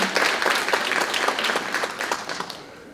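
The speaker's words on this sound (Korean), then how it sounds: "박수 부탁드립니다" Audience applause at a Korean fishing-boat safety policy forum, a steady wash of many hands clapping at moderate volume that slowly thins out toward the end.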